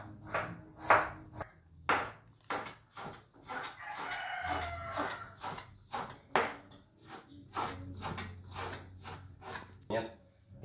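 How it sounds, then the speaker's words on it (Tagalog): Knife strikes chop tomatoes and onions on a board in a steady series of crisp, close taps, with a brief stretch of rustling between them and roosters crowing in the background. "gayatin ko na yung mga kamatis, sibuyas"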